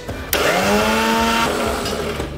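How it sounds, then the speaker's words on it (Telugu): A kitchen mixer grinder whirs loudly and steadily after switching on abruptly, its motor pitch climbing and settling into a strong continuous hum for a couple of seconds, blending ingredients for a peanut butter and whey protein shake. "మిక్సీ పెట్టినామా."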